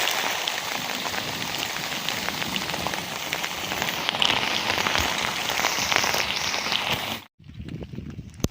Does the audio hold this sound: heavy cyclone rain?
yes